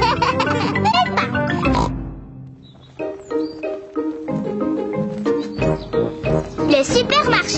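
Cartoon pigs oinking in a French-language Peppa Pig episode: several snorty oinks come in bursts over background music, with voices talking in between.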